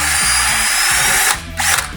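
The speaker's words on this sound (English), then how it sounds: "So one trick is to put some wire on a drill, and that will just clean them out." A power drill fitted with a wire brush scours built-up paint from threads on a classic Datsun during brake work, giving a loud, steady, rattling mechanical whir that drops out briefly and then resumes.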